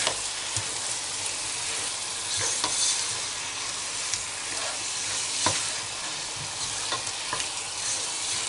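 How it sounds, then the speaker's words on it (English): Mutton curry with half a teaspoon of garam masala being stirred in a pan, a steady close sizzle with scattered scraping and clinking of the spoon against the pan, no voices. "And then you're just going to give that a quick stir."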